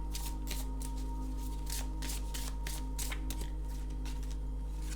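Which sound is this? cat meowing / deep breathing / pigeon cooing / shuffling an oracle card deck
shuffling an oracle card deck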